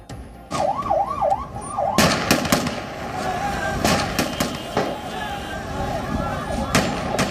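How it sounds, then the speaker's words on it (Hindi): Rapid gunfire from a Taliban fighter on the wall of Kabul airport: loud, sharp bangs in uneven bursts and single cracks, with a wavering siren-like wail early on and voices throughout. "काबुल के एयरपोर्ट की इस दीवार पर एक तालिबानी अंधाधुंध फायरिंग कर रहा है।"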